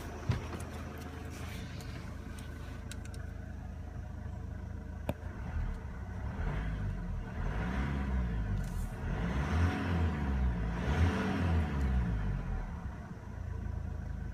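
A 2014 Mercedes-Benz E250 BlueTec 4MATIC with a twin-turbo diesel engine accelerates from inside the car, its rumble rising and falling in repeated surging sweeps under steady road noise.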